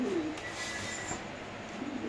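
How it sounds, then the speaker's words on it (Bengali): A Pankhi pigeon in a cage at a pigeon farm gives one brief, soft, low coo near the start, then falls quiet against faint background noise. "এটা পাঙ্কি কবুতর"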